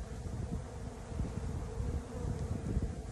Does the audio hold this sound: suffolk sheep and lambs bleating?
no